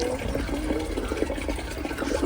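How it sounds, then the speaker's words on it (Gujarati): Water runs from a household tap in a steady, splashing stream at moderate loudness, continuous and alone without speech. "નળ ધીમો રાખ દીદી."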